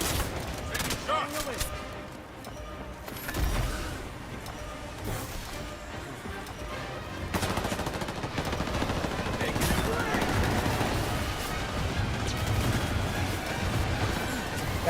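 Rapid gunfire in the shooter game Highguard, bursts of automatic shots rattling over a busy battle mix, with voices talking throughout.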